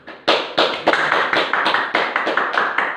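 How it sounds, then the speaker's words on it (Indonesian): Classroom applause for a student, a quick run of about ten sharp claps in a steady rhythm, close and loud, with no talk over them. "Tepuk tangan untuk Mas Satrio, ayo."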